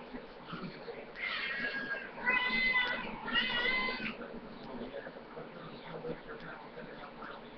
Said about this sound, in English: I guess my cats are hungry.